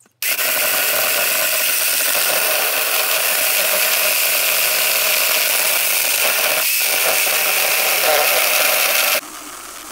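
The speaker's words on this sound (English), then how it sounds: "Right, so let's get to doing some cutting with it and see how good it is." An 8-inch cordless chainsaw running on a Makita battery cuts steadily and loudly for about nine seconds, its motor whine holding constant, then cuts out abruptly near the end.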